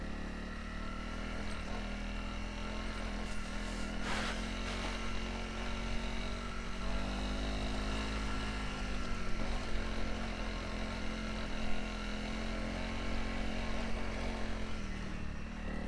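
A single-cylinder motorcycle engine drones steadily while riding, a continuous low rumble with slight rises in pitch, fairly distant and muffled, with no voices.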